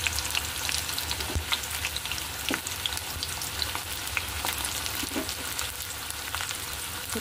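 Chopped onion sizzling and frying in hot white oil in a wok, a steady crackling hiss with occasional sharp pops and stirring scrapes, close and continuous with no talking.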